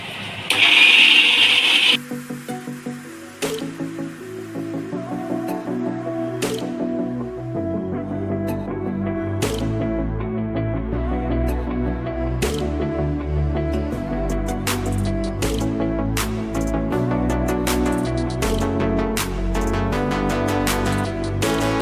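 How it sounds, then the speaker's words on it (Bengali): Mixer grinder blending spices for homemade biryani, a loud steady motor whir that starts abruptly, cuts out briefly, then runs with rhythmic clattering pulses over about twenty seconds. "মিক্সিতে চেপে নেওয়া যাক।"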